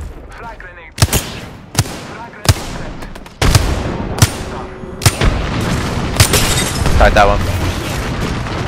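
In a video game, missiles and a grenade go off as a string of sharp booming blasts with loud ringing tails about every second. Players talk over the explosions.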